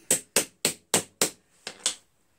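Hammer blows on the starter motor of a Craftsman DYT4000 lawn tractor with an 18.5 HP Briggs engine: five loud, evenly spaced sharp metallic taps, a short pause, then two more, each with a quick ringing decay.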